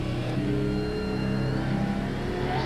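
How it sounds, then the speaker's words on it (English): Rusty Wallace's Miller Genuine Draft stock car revs at a 1994 Richmond race, a loud, steady engine roar that holds for the whole stretch with no pause. "The Miller Genuine Draft Rusty Wallace stock car."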